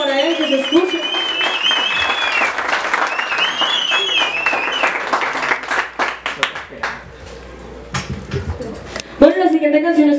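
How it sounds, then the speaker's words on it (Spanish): A crowd gives loud, sustained applause for a birthday boy at a party with a mariachi band, mixed with voices and some sung or spoken lines, fading toward the end before music resumes. "Y ese fuerte y bonito aplauso para él,"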